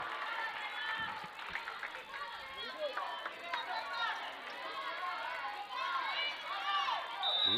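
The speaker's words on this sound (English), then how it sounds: "probably hear the crowd in the background" Crowd noise at an eighth-grade regional championship volleyball match, a busy murmur of chatter with occasional cheers and shouts running steadily in the background.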